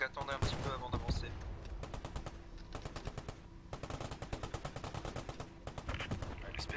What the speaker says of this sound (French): Utilise sa mitrailleuse